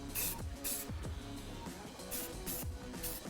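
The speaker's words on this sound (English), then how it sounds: "now we're going to hit it with some spray paint to prevent it from rusting" Short bursts of spray paint hiss from a can onto a modified Ford F-150 Raptor suspension bracket, several quick sprays in an uneven rhythm, close and fairly quiet.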